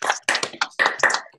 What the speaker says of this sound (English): We can give a big round of applause to everybody.